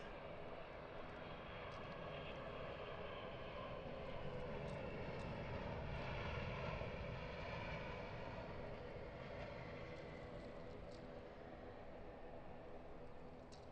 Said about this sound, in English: we're going to catch the 777 landing just while we're here